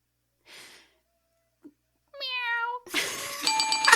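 A person's voice imitates a cat's meow, a short harmonic mew following a soft breathy sound and a faint click, then broadband noise takes over at the end.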